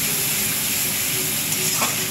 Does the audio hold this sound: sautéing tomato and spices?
yes